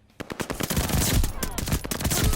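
Rapid bursts of Armaguerra gunfire in a video game, fired in short taps and quick strings, loud and close with dense sharp reports filling the clip.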